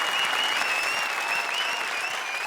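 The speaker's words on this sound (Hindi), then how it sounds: "एक बार फिर लेडीज एंड जेंटलमैन जोरदार तालियां कपिल और मुक्ति के लिए" A studio audience at a televised comedy show applauds loudly and steadily, with a faint high whistle drifting above the continuous clapping.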